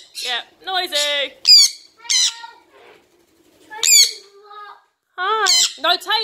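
A parrot squawks repeatedly, close by and loud, in harsh bursts. A clustered series is followed by a brief lull, then more shrill calls.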